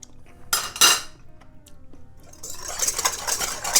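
A spoon or whisk clinks against a bowl while salt is mixed into a Calabrian chili vinaigrette for a radicchio salad, with a couple of sharp taps followed by a steady run of stirring and scraping, close and clear with no talking.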